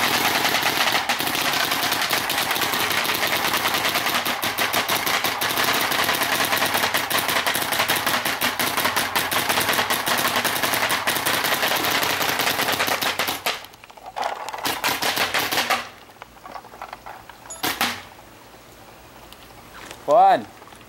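A paintball marker, a Tippmann Torque, fires on semi-automatic in rapid, dense bursts of sharp pops for several seconds at close range, then the shooting stops and a few quieter sounds follow.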